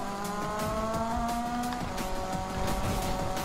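A car engine in the Need For Speed (2015) video game revs and climbs in pitch through manual gear shifts, a steady loud whine with tire noise, rising tones dropping at each shift.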